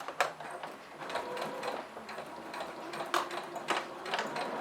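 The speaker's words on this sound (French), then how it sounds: "je vais juste faire une petite couture au point droit" A sewing machine runs a straight-stitch seam on a small fabric pouch, a close, steady mechanical whirr with rapid needle ticking and a few brief clicks.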